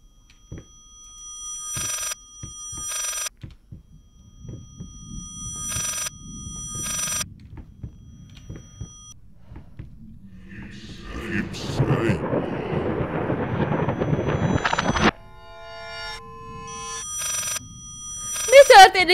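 An old-fashioned telephone bell rings in repeated bursts inside the horror game Layers of Fear, set against low rumbling ambience and a swelling storm-like noise, with speech at points.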